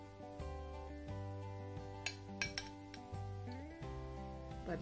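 A spoon clinking against a tall glass while banana is layered inside, a handful of faint, sharp taps scattered over steady background music.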